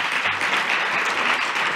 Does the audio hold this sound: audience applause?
yes